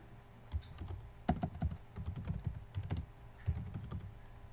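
Computer keyboard keys tapped in irregular bursts of clicks, close and moderately quiet, with no talking.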